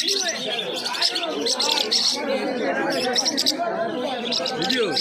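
A pair of pineapple conures call with bright, repeated chirps over the busy chatter of a crowded pet market, where voices talk nearby throughout.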